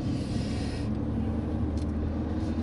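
A 2016 Mercedes-AMG A45 4Matic engine hums low and steady while cruising in comfort mode, a faint, even rumble heard from inside the cabin with no speech.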